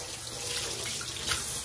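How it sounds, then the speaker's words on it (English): Warm water runs from a kitchen sink tap to clean farm-fresh chicken eggs, a steady full splashing stream that holds constant throughout with no talking. "go ahead and run you some warm water"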